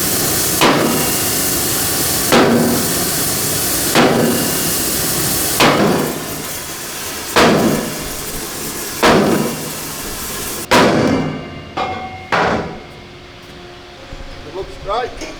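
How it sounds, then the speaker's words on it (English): A sledgehammer pounds a bent steel plate from a StuG III tank straight, heavy ringing blows landing about every one and a half seconds, loud and close over a steady background roar, with a voice briefly near the end. "The only way to straighten it out was with LPG and a sledgehammer."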